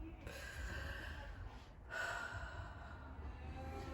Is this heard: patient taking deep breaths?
yes